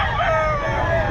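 Young gamecock stag, about 2.8, crows once in a short, loud, near call with a rising then falling strained tone over faint background noise.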